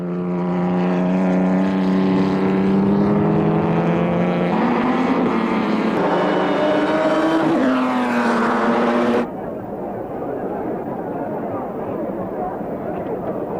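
Vintage ERA and 3-litre Maserati race cars at Donington Park give off loud, droning engine notes that climb and shift in pitch as they race past. The engines cut off abruptly into a duller rumble, with a commentator talking over them.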